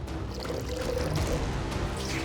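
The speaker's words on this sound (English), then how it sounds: "What an unathletic way to pour water." Water poured from a pot into another pot on a stove for boiling pasta, a continuous, fairly loud splashing pour lasting a couple of seconds.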